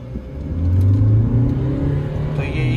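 A Hyundai Creta diesel automatic in eco mode pulls away under acceleration, its engine drone and rumble rising steadily and loud throughout, with no talking over it.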